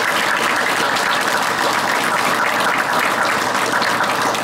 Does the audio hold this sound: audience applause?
yes